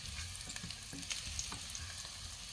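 Garlic is sautéed in a hot pot, with a continuous close sizzle and a few stirring scrapes, and no voices.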